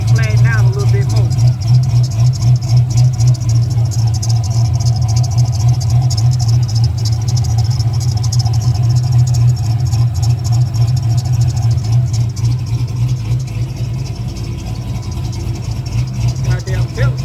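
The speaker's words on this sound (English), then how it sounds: "This belt got a little squeal going on it." A Chevy engine idles with a worn belt squealing, a loud, steady low rumble carrying a thin high whine above it, while muffled voices murmur faintly in the background.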